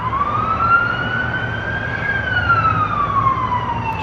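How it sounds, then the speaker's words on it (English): An emergency vehicle siren wails during flooding in Abbotsford, British Columbia, a single loud tone sliding slowly up and then back down over a steady low engine rumble, with no voices. "And there's another siren."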